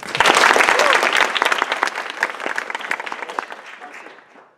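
Audience at an open-stage magic show claps in a loud, dense burst that gradually thins and fades out over several seconds, with some voices mixed in.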